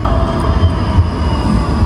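A tram running on rails, with a steady loud rumble of wheels and motor hum close by and a faint metallic whine, no voices.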